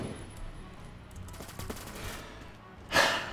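Bursts of automatic gunfire from an MG36 machine gun in the video game Phantom Forces, a rapid rattle of shots followed by a louder, sharper burst near the end.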